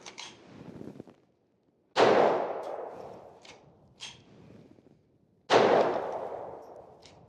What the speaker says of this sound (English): Let's fire these last 2 rounds out of it.